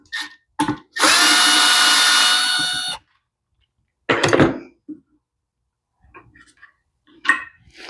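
A power driver whirs steadily for about two seconds while backing a bolt out of a McLane edger carburetor, followed by short metallic clicks and clinks of parts being handled close by.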